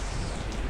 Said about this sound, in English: there is more rain coming this way.